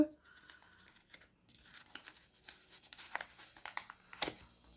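A paper envelope being torn open, with short ripping and crinkling bursts that grow louder near the end, heard close up under occasional quiet speech.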